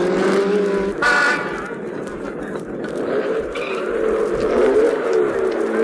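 Stirling Moss's racing car pulls into the pits, its engine note rising and falling close by over a background of track noise, with a sharp horn-like blast early on and a steady rumble that builds toward the end.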